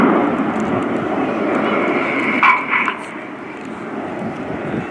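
Red Arrows jets flying in diamond formation at an air show, a broad, steady roar of jet engines in the distance with a brief swell midway, under a public-address commentary voice.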